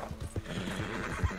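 In the video game Red Dead Redemption 2, a big black horse's hooves clip-clop in a quick uneven rhythm, fairly close but quiet, with a short whinny near the end.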